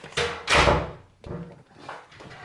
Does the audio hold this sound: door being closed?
yes